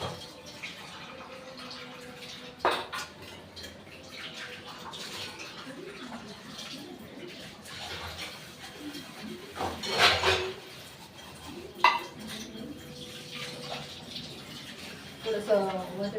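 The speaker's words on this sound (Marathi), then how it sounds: "आता पटकन भांडे घासले." Dishes, pots and utensils being washed in a home kitchen sink: running water, scattered clinks and clanks of metal vessels, and occasional sharper knocks, with a voice speaking over parts of it.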